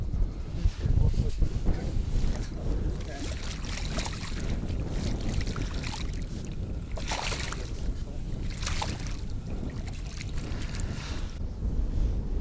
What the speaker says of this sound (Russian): Ну вот, начался ветер мощный.